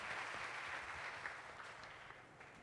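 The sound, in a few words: congregation applauding in church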